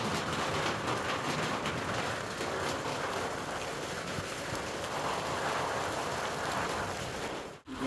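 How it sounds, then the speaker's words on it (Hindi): Big, slow raindrops fall ahead of a heavy rainstorm, a dense, steady patter of drops striking surfaces nearby, faint but continuous throughout. "बहुत मंदी मंदी बूंद है, और मोटी हैं, डप डप डप डप की आवाज़ आ रही है।"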